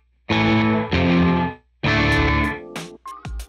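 Guitar played through a gated reverb effect on a Line 6 Helix: thick, bright chords that cut off abruptly, three strummed bursts followed by a few shorter plucked notes, loud and alone.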